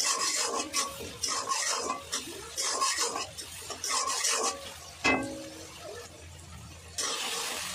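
Chopped tomatoes and salt being stirred in a frying pan over fried onions, part of a rohu fish roe dish; repeated close scraping and stirring strokes with a faint sizzle, no voices.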